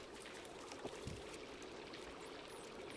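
Quiet, steady trickle of flowing water in the video game Stray, a soft continuous pouring stream with a couple of faint clicks and low bumps over it.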